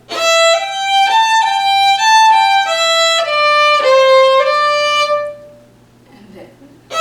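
Fiddle playing the next part of the old-time tune Old Melinda, a chunk of bowed notes moving across the strings for about five seconds, then quiet with faint movement.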